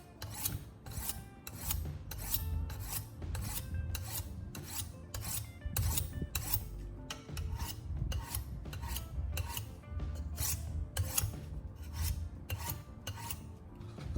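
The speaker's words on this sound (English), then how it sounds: "Keep the pressure light and steady. After a few passes on each side, you can feel the edge getting cleaner and sharper." A knife blade is sharpened with light, steady passes, giving a regular series of rasping scrapes, roughly one per second, close and clear with no voices.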